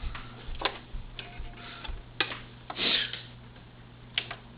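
A sewing machine runs a straight stitch through velcro on a pillow in short bursts of rapid ticking, with brief pauses between runs and a sharper whirring spurt near the middle. The sound is close and quiet.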